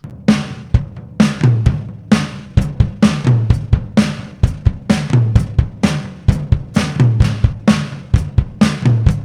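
Two-microphone acoustic drum kit mix with a sampled snare layered in, a driving beat of punchy kick and snare hits under bright cymbals, loud and upfront throughout.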